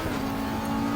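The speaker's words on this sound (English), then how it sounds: "we're going to shift down to third and go to the throttle as much as possible" A race car in Assetto Corsa Competizione at rainy Monza under heavy throttle, a steady loud engine drone with a strong tonal whine, held continuously for a moment.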